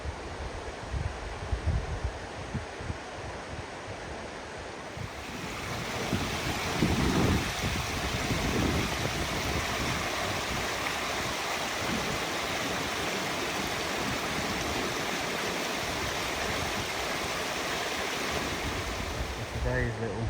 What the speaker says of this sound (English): just about hear the river down there